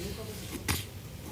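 One brief, deliberate demonstration cough bursts out once midway through, fairly faint against a steady background hiss.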